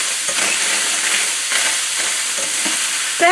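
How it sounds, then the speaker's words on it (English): Onions and peppers sauté in a hot pan, giving a steady, close sizzle and hiss with occasional stirring scrapes and no talking. "My pan's heating up now, and I'm going to add my onions and peppers."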